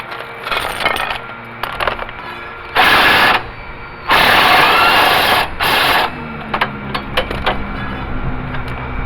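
An impact wrench with an 11/16 socket on a long extension works the starter bolts of a John Deere 318 lawn tractor, firing in several loud hammering bursts separated by metallic clinks and handling noise.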